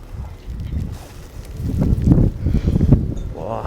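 Strong wind drives snow across open ground on a Canadian winter day, a loud, steady broadband roar with rising and falling gusts close to the microphone and no voices.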